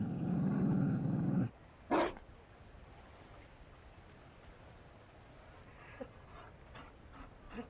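A Mabari war dog in the fantasy game Dragon Age Inquisition pants loudly and close, gives a sharp short growl, then falls quiet before a few soft breathy huffs and snuffles.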